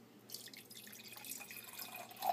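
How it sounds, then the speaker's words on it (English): Water trickling into a wine glass holding a Shaklee vitamin tablet, a quiet steady pour with small drips and a rising glassy tone near the end, heard close and alone. "And then I'm going to just add some water."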